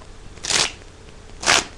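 Playing cards are shuffled by hand for a card trick: two short, crisp riffling bursts about a second apart, heard up close with no talking.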